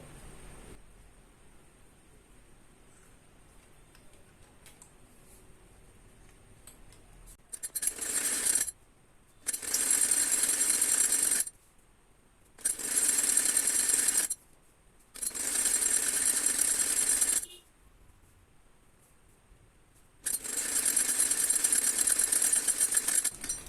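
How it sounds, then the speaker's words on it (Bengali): A sewing machine runs in several separate bursts, each lasting one to two seconds, as it double-stitches the leg seam of a pant-cut salwar. The stops are quiet, and no one speaks. "এখন একইভাবে আমি আরেক পাশের হায়ের অংশ সেলাই দিয়ে নিব।"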